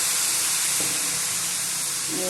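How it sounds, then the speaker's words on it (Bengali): A steady, loud hiss of water poured into a hot pan of fish curry, continuous throughout with a faint bubbling underneath. "এই পিঠের ঝোলের মধ্যে জল দিয়ে দেবো"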